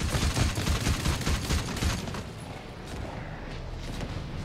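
Rapid gunfire in the co-op shooter Synced, fired at enemies during a raid boss fight: dense bursts of close shots in the first two seconds, then thinner scattered shots and mechanical clatter.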